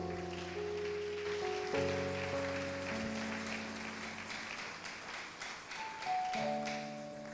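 Church congregation applauding in a French-language worship service, steady dense clapping filling the room alongside sustained organ or keyboard chords, moderately loud throughout.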